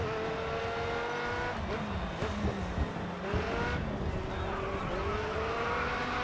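A race car drifting in GRID Autosport, engine droning loudly at high revs with repeated gear shifts and tire squeals as it slides through a corner, other cars audible nearby.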